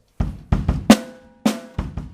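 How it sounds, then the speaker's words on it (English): Drum kit playing a groove with sharp cutoffs: a handful of punchy hits and a couple of crashing accents, separated by abrupt silences, close and dry. "it's the same groove with some cutoffs"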